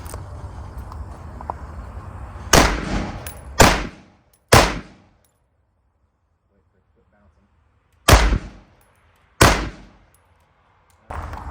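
Gunshots fired at a backpack body armor panel, about seven loud sharp reports spread unevenly over several seconds, some in close pairs, each followed by a brief ringing decay, with quiet gaps between.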